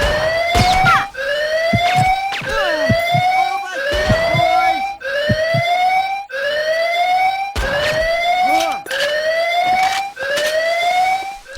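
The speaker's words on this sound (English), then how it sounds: "this siren is starting to bug me now too" A loud, close fire alarm siren in the video game Perfect Dark Zero repeats in rising whoops about once per second, a steady electronic alarm cycle with occasional clattering noises underneath.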